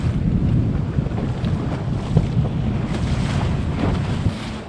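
Rescue boat at sea towing the broken hull of the racing sailboat Cheminées Poujoulat at two knots toward L'Aber Wrac'h, heard as steady wind-buffeted engine and water rush, loud and continuous, no voices.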